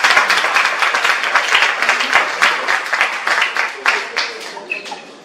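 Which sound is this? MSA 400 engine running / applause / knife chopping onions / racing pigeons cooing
applause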